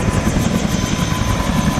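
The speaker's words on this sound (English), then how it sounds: "We have about a 20-minute heli ride from Lillooet here." A helicopter ride out of Lillooet to the Big Bar landslide, heard from inside or very near as a loud, steady rotor thump and engine roar filling the whole short stretch, with no talk.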